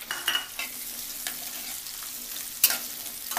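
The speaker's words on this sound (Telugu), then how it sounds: "ఉల్లిపాయ కూడా కొంచెం వేగనివ్వాలి." Chopped onion frying in hot oil in a pan while cooking pepper chicken, a steady soft sizzle with a few brief stirring scrapes and one sharper clink near the end.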